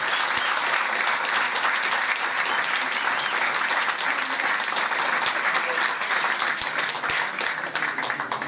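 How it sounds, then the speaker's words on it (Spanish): A large audience applauds warmly at a political talk event in Argentina, steady dense clapping filling the room for the whole stretch and tapering slightly near the end. "Aplauso enorme para ellos tres"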